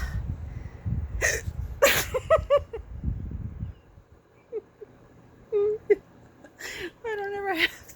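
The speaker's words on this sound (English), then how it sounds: "I don't ever have the hiccups" A person gets a run of hiccups, several sharp, abrupt gulps spaced irregularly, mixed with breathy talking and handling noise nearby.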